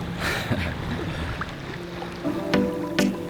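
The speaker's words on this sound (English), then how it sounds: "It was so relaxing hearing the waves and enjoying the perfect water temperature and the blue sky." Gentle ocean waves in warm, clear water off Isla Holbox, Mexico, where people are swimming: a steady close-up wash of moving water with a faint low hum underneath, broken by two sharper splashes near the end.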